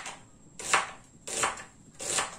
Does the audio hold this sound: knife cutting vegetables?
yes